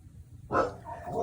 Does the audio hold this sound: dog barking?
yes